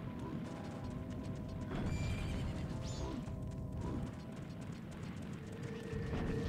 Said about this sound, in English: Yeah, I hear my horse.